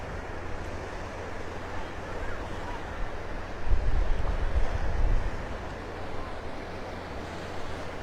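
Ocean surf at a beach in North Naples, Florida, at sunset: a steady wash of waves with wind buffeting the microphone and a louder surge midway, no talking.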